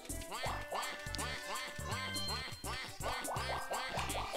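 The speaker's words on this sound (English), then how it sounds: "Waluigi sounds like a duck when you hit the taunt button so many times" Waluigi's taunt in Mario Party 3 is triggered over and over, producing a rapid string of nasal, duck-like quacking calls that repeat in quick bursts, loud and close.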